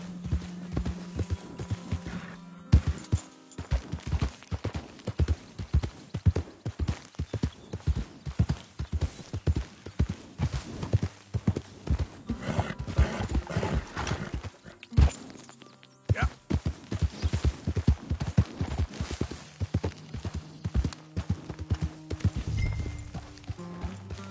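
Horse hooves clip-clop steadily in Red Dead Redemption 2, a near, rhythmic run of hoofbeats that pauses briefly and resumes, with a low hum beneath.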